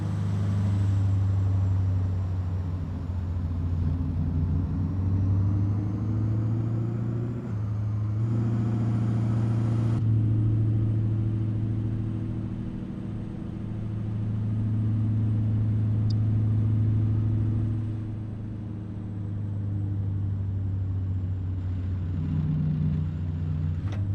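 A Peterbilt 389 hauling a wind blade in American Truck Simulator, its deep diesel drone steady and close, dipping and rising with gear changes over a long sustained stretch.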